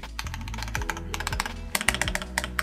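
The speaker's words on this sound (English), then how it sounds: "The spacebar sound, it's a bit hollow, but personally I do like this funky sound." Rapid typing on an ROG Azoth mechanical keyboard, close and crisp, with clacky keystrokes in uneven bursts and a few heavier, slightly hollow, high-pitched spacebar presses mixed in.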